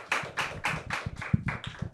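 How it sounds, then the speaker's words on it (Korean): Audience applause at a 2024 Gangnam deep-tech startup networking forum: a steady run of about seven distinct, close claps in an even rhythm, with no talking. "뜨거운 박수 부탁드립니다"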